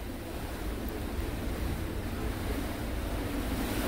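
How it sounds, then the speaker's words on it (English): Ocean surf roars steadily in the background, a continuous broadband wash of waves mixed with wind buffeting the microphone. "I apologize for the ocean noise in the background"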